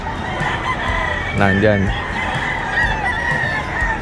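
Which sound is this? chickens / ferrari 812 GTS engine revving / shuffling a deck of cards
chickens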